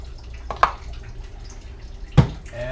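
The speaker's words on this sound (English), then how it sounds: "Pardon me while I sanitize my funnel." Water splashing and dripping while a funnel is sanitized for yeast washing, two distinct close splashy drops separated by quiet trickling.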